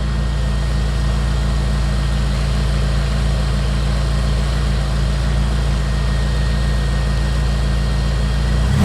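A Jeep engine, fitted with fuel injection and a PC3 tuner, runs steadily at about 2600 RPM. It makes a loud, even, low drone that holds for the whole stretch with no voices.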